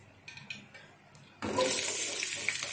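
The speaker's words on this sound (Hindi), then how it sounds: "अब मैं इसमें प्याज ऐड करूँगी।" Chopped onions drop into a pan of hot oil and set off a sudden, bright sizzle that holds steady and fairly loud after a few faint clinks.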